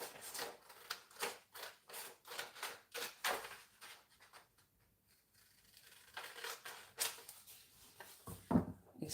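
Scissors cutting during a handmade craft session, a quiet run of crisp rhythmic snips, pausing midway and then resuming, faint and close.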